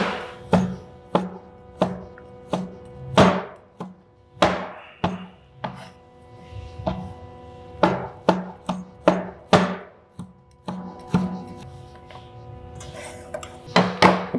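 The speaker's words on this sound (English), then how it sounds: "I'm going to slice it now." Chinese sausage (lap cheong) sliced with a knife on a chopping board: a close series of crisp knife taps landing in uneven bursts, some quick and some spaced out, with a short pause near the end, no speech.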